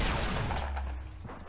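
A burst of gunfire in the video game Fortnite, a rapid fusillade of shots that fades quickly over a second and a half.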